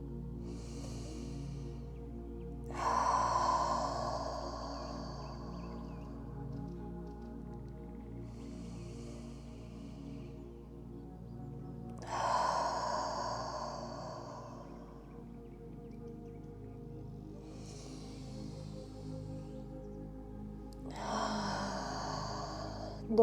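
Three slow breath cycles during a hands-free yoga session, each a soft nasal inhale followed by a louder, breathy open-mouth exhale, spaced several seconds apart over quiet low background hum.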